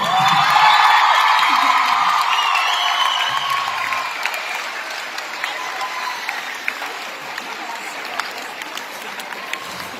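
A crowd applauds, with loud, dense clapping and some cheering at first, then thinning into scattered claps.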